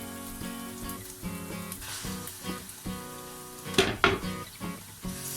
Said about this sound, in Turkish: Güzelce böyle eze eze kavuracağım kıymamı